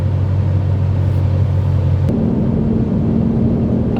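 A 2020 Shelby GT500 engine pulls hard under acceleration, a loud, steady low rumble that steps up in pitch partway through as it shifts, with no talking over it.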